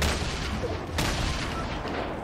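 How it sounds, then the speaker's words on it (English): Grenade explosions in a solo-mode shooter video game, dense overlapping booms and gunfire bursts at moderate level, with a sharp blast near the middle and a faint voice underneath. "Eat them grenades, boy."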